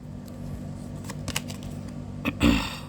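A deck of tarot cards is shuffled up close, with brief riffling flutters and sharp card snaps that build to a louder final burst near the end, and no voices.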